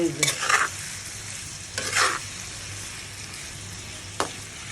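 Fish and potato pieces are mixed by hand for a spicy chorchori, giving three short, soft squelching bursts of handling, the last one very brief, over a quiet background.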